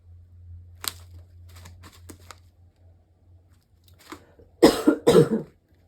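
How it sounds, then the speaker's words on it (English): Two loud, harsh coughs burst out near the end, after a few faint clicks and rustles over a low steady hum. "Still got a pesky cough going on in the background there."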